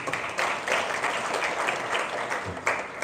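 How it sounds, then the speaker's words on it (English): An audience at a family business conference gives a sustained round of applause, a full, dense clapping that swells slightly and holds steady throughout. "Ladies and gentlemen, a bigger hand of applause."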